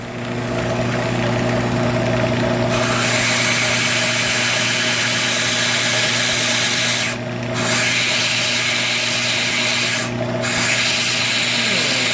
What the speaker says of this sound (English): we're just gonna barely belt sand that off